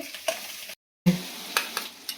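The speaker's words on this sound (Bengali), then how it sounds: "এখানে পেঁয়াজটা ভাজি করছি" Onions fry in a pan, a steady sizzle broken by a brief silent gap, with scraping stirs from a utensil poking through, close and fairly quiet.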